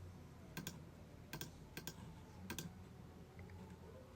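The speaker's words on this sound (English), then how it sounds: "You can go ahead and type that." Several quick bursts of keystrokes on a computer keyboard, light close clicks in short groups separated by pauses, with a quiet background.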